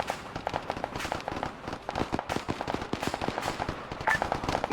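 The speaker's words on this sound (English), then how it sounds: "I'm going to pop some smoke grenades to cover it from the vehicle." Smoke grenades popping in the military video game Arma 3, a rapid run of sharp cracking pops repeating steadily through the whole stretch, fairly close and without talk.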